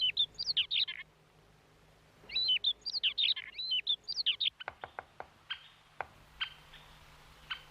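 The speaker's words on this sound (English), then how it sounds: "in spring, the woods echo with the sound of birds." Birds chirp and twitter in quick bright bursts in spring woods at Kushiro Marsh, pausing briefly between phrases, followed by a few sharp clicking notes near the end.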